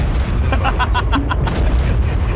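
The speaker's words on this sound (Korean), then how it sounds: "밑에서 폭발 소리가 쾅쾅 쾅" Explosions go off below the player in the survival game ARK: Survival Evolved, a quick run of loud booms and bursts close together over a heavy low rumble.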